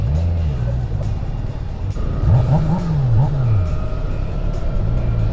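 A 2023 Kawasaki Z900 motorcycle revs and accelerates loudly and close by, its engine pitch rising and falling in several quick surges over continuous road noise.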